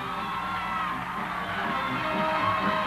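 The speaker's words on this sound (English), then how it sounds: "At City Hall, a cheering tribute echoed through the streets of Lower Manhattan." A large crowd at City Hall in Lower Manhattan cheers in tribute to swimmer Gertrude Ederle, a steady roar of whoops and yells echoing through the streets, heard in an old, hissy archival recording.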